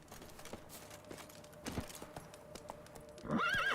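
Horse hooves clip-clop in The Witcher 3 and end in a loud whinny, with steady hoofbeats at moderate level in the game.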